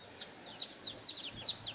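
A hen with her chicks in the bush gives a rapid series of short, soft high clucks and peeps, close by and with no voices.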